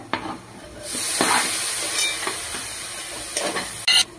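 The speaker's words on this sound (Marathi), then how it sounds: "त्यामध्ये आता बारीक चिरलेले टोमॅटो टाकून घेऊया आपण." Finely chopped tomatoes hit a pan of soybean chunks with mutton masala and sizzle and hiss steadily, with stirring scrapes and a brief loud clatter near the end, close and without voices.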